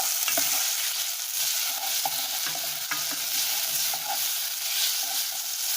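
Cooked pasta is stirred into sauce in a hot pan, giving soft, irregular scraping and tossing sounds over a quiet, steady sizzle.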